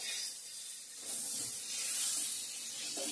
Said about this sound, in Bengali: এদিকে পটল ভাজা করে নিচ্ছি এখন